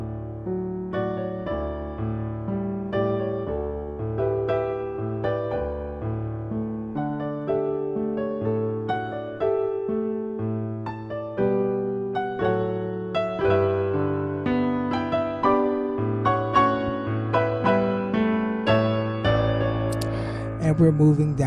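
The C section of a theme on solo piano: a flowing melody over sustained low chords, played at a steady, unhurried pace, close and full for over twenty seconds with no talking.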